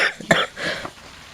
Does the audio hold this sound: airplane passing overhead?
no